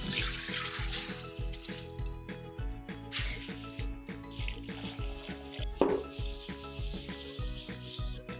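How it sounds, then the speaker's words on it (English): Uncooked rice is rinsed in a pan under a running tap, steady splashing water with clinks and grainy swishing from hands stirring the rice, close and continuous, with no talking. "Rinse the rice until the water runs mostly clear."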